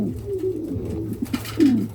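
Pigeons coo nearby in soft, low murmurs, with a few brief throaty calls and one louder, falling coo toward the end, no voices over them.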